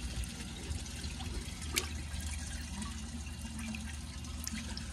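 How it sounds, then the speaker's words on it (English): A 2002 Sanitarios Maracay toilet flushes with a filled tank, and water rushes and gurgles at a steady level throughout. "And then I'm going to give it another flush on a filled tank."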